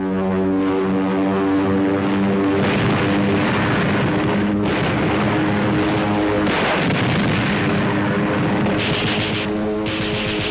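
Propeller aircraft strafe enemy airfields in 1944 World War II combat, engines roaring continuously while rapid machine-gun fire and repeated explosions burst loudly over the din.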